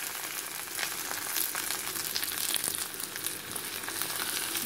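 Tomatoes sizzle and fry in a pan as they are stirred into a meat-bone curry base with broad beans, a steady close crackling hiss with soft stirring scrapes and no talk.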